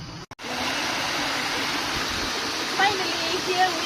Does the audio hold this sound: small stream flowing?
yes